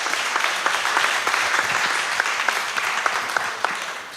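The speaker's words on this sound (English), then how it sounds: "let's give them a big round of applause and celebrate together" An audience at a youth peace conference claps in sustained applause, a dense, even patter of many hands that holds steady before easing slightly at the end.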